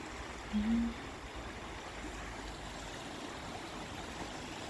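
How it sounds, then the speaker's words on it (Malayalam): Small stream flowing just in front of a house in Bavaria, a soft, even rushing murmur with a brief faint louder blip near the start; quiet, no voices. "എൻ്റെ ബ്രദറിൻ്റെ വീടിന് തൊട്ട് ഫ്രണ്ടിലാണ് കേട്ടോ ഈ അരുവി."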